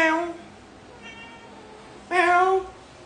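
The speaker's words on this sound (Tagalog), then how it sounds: "Meow. Meow. Meow." A cat meows several times nearby, two long drawn-out calls with a softer one between them, while people talk quietly in the background.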